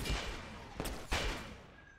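A rocket firework launcher in the Roblox game Arsenal fires twice, each a sharp burst followed by a hissing decay, with low rumble between, moderately quiet.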